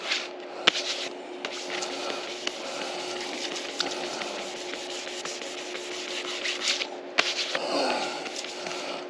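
Flow-coated paint on a 2017 EZGO RXZ golf cart is sanded by hand, a steady close scratchy rubbing at a constant pace with a few sharp ticks, quiet and alone.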